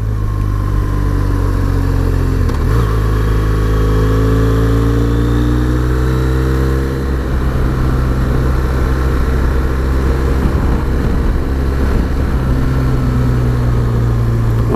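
A BMW R1200GS motorcycle rides a winding country road, its engine note rising and falling loudly as the rider works through bends and climbs, over steady wind and road roar.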